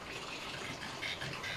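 Water poured over someone during a bath, a steady splashing gush that runs continuously at close range with a few brighter surges near the end, no talk heard.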